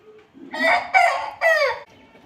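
A young country rooster, about three and a half months old, crows once up close, a loud, strained call broken into three rising and falling bursts, then quiet.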